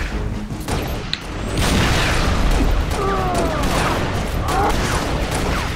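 Repeated grenade explosions and heavy combat noise in the video game Halo Reach, a dense run of booms and blasts rolling continuously over several seconds with chaotic battle sounds layered between them.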